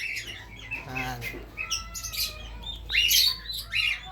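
Several birds, including turkey chicks, chirp and squawk at close range, with sharp, varied calls overlapping in quick bursts.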